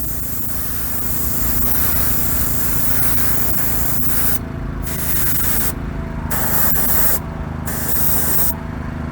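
Airbrush spraying a coat of House of Kolors paint, a steady close hiss of atomized spray running throughout with several brief pauses as the trigger is released and pressed again.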